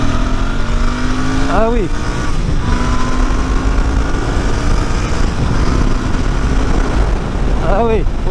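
Royal Enfield Bear 650 twin-cylinder motorcycle accelerating hard, its engine tone rising and falling through two rev sweeps with a steady engine drone between them, close and loud, with someone speaking briefly over it.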